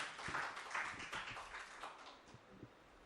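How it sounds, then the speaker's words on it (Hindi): An audience claps to welcome poet Surendra Ashq Rampuri onstage at a mushaira poetry session in Delhi, a faint, steady patter of many hands that thins out toward the end. "उनका जोरदार तालियों से स्वागत करें।"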